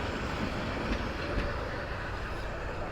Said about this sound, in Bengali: এখন যেটা গেল এটা কিন্তু মহানগর